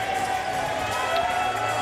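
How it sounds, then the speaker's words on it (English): Basketball arena crowd at an NAIA men's tournament game giving a sustained ovation, a steady wash of cheering and clapping with a voice talking over it. "And the crowd gives a good SAGU ovation to"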